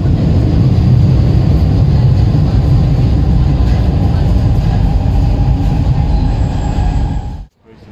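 A Milan metro train heading toward Milano Centrale rumbles loudly and continuously from inside the carriage, with faint wheel squeal, before the sound drops away abruptly at the very end.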